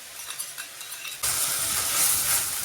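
Sauce being stirred into noodles in a hot pan over a high flame, heard as a quiet scraping start that gives way abruptly to a loud, steady sizzle of frying with stirring scrapes beneath.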